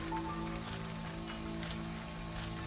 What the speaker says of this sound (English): Or maybe it's the rain.